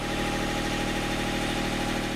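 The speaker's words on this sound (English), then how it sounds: "the engines are on for 2 hours every day to charge the batteries" Boat engines run to charge the batteries, a loud, steady, droning mechanical rumble heard close up with no break and no voices.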